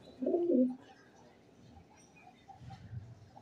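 A Teddy Golden pigeon in a Lahore loft gives one short, fairly loud coo up close, followed by quieter low murmuring from the birds, with no speech.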